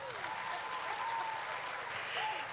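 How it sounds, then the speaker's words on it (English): Sustained, dense applause fills a conference hall as an audience at an education technology event claps for a foundation, steady and even throughout with a faint tonal hum underneath. "So please, one last round of applause for Mastercard Foundation."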